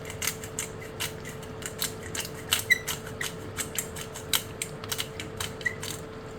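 Pepper mill grinding cracked black pepper over a lasagna pan, a run of quick dry crunching clicks in an uneven rhythm, close and fairly loud against a steady background hum.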